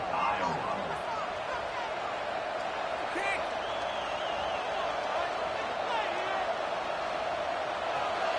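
A college football stadium crowd roars in a steady, dense wash of noise during an Iowa game, with scattered whoops and voices rising over the sustained din.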